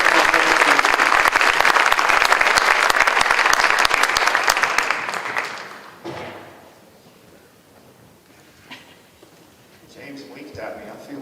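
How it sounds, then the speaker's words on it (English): Dense crowd applause, loud and sustained for about five seconds, then fading out into quiet room murmur and scattered noise. "Round of applause for Dylan"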